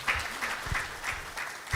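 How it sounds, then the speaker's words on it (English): Audience applause at an investment forum, steady clapping from a crowd filling the room, moderately loud and continuous throughout. "I think you deserve a round of applause."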